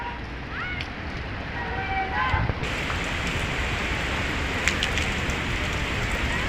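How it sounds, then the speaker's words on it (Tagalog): Steady, heavy rain hisses and patters across surfaces nearby, a continuous broadband wash with brief faint voices and chirps early on. "Grabing ulan."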